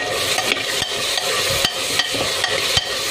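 Chopped onion and soaked peas fry in hot oil while a spoon stirs them around a pan, giving a steady close sizzle punctuated by regular sharp scrapes and clicks of the utensil against the metal.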